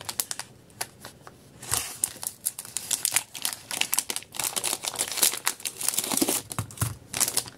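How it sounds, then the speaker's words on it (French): A small packaging pouch is torn open with crisp crinkling and rustling, a busy run of close plastic crackles and snaps at varying loudness. "on va ouvrir la petite pochette"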